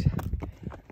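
Horses walk on the ground nearby with a loose dog around, giving a few irregular hoof thuds spread across a second, close and moderately loud.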